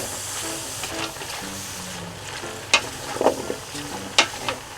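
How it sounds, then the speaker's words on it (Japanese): Burdock root, soaked to remove bitterness and rinsed, stir-frying in a pan for pork miso soup, giving a steady steamy hiss and sizzle broken by a few sharp utensil clacks against the pan. "先ほどアク抜きしていたごぼうです。 一回水にささって洗った後ですね。 はい、でこちら炒めていきます。"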